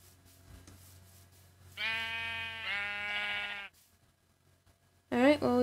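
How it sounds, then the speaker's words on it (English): Several harmonic sheep bleats, loud and close, one drawn-out call followed by another and a sharper bleat at the end, with quiet gaps between. "Alright, well, we've got some sheep."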